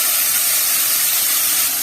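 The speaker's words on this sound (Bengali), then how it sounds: "মাংসটা কড়াইতে দিয়ে দিলাম" Minced chicken, soaked in vinegar, hits a hot wok for chicken egg fried rice, giving a loud, continuous hissing sizzle that holds evenly throughout with no voices.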